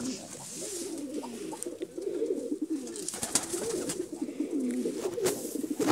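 Several pigeons cooing close by in soft, repeated throaty calls, overlapping one another with some outdoor rustling and a few sharp clicks.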